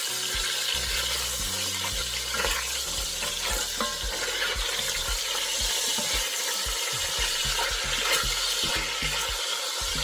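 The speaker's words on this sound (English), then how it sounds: "You keep turning your oxtail and making sure that you get all the pink out." Oxtail pieces turned and browned in a pot, steady sizzling and frying with repeated stirring scrapes and knocks, close and continuous with no talk.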